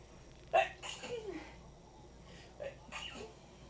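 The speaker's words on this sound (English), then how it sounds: "I have to sneeze in the worst way" A sharp, close sneeze bursts out, followed by a few softer breathy vocal sounds and a second, smaller outburst.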